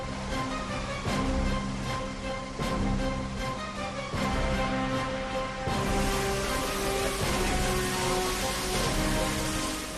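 Heavy rain pours down in a flooded Indian city as a dense, steady hiss. It continues unbroken for the whole stretch and grows slightly heavier toward the end.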